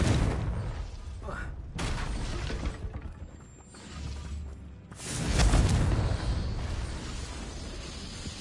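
A Confringo explosive spell in Hogwarts Legacy: whooshing, shattering bursts that swell and fade, with a loud eruption near the middle over a steady game backdrop.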